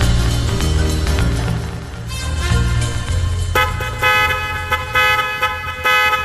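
Car horn honking in a rural road setting, sustained and repeated blasts with a loud tonal blare, the pitch shifting partway through as horn toots continue close by over engine rumble.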